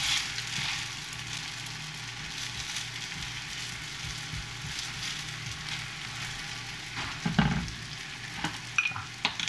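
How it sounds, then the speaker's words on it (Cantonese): Teochew double-sided golden crispy noodles pan-fry over high heat with a constant, close crackling sizzle, broken near the end by a few knocks and scrapes from the pan, with no talking. "反一反之後呢，再煎2分鐘。"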